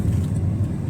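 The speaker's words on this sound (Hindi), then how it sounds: "इस गाड़ी को मैं फुल स्पीड में चला के देखता हूँ" A used car on a test drive at full speed, a steady low engine and road drone with a rumbling undertone, continuous and fairly loud for a brief moment.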